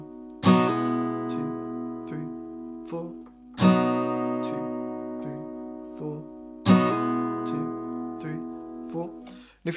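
An acoustic guitar rings out three slow chords, each followed by quick hammered-on notes that let the chord sustain and fade between strums.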